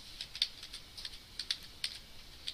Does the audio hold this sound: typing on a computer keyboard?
yes